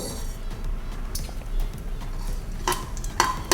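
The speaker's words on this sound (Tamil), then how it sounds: "கடுகு புரியட்டும் கடுகு உடையுது" Mustard seeds spluttering in hot oil in a kadai while tempering rasam, a close, steady crackle of tiny pops with a few sharper clinks of a metal utensil near the end.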